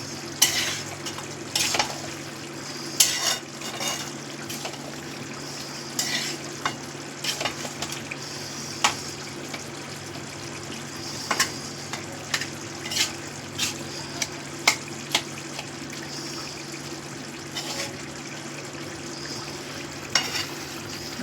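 Prawns and chopped ash gourd being stirred in a pan: a steady low sizzle and hum runs throughout, broken by frequent sharp clicks and scrapes of a spatula against the pan, close with no talking.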